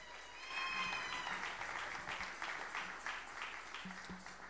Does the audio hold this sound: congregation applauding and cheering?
yes